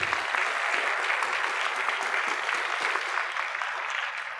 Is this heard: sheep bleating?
no